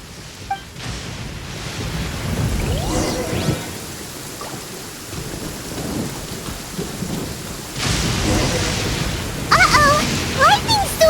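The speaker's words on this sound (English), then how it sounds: "Uh-oh! Lightning storm!" A thunderstorm in Genshin Impact, with steady rain hiss and several rolling thunder rumbles and cracks building over eleven seconds, loud and close.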